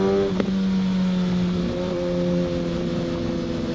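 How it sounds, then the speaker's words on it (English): A Kawasaki Ninja ZX6R motorcycle with an M4 exhaust runs close by, a loud steady engine drone whose pitch sags slightly after a brief blip near the start. "this exhaust is crazy"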